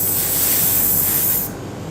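Steady, bright hiss of spray paint hitting a Bandai Petit Rise Gilgamesh model figure over primer for about a second and a half, then cutting off abruptly, leaving quiet room tone.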